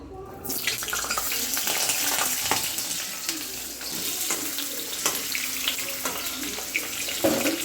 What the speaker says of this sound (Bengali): তেলটা গরম হয়ে গেছে মাংসের আলুগুলো এবার ভেজে নেব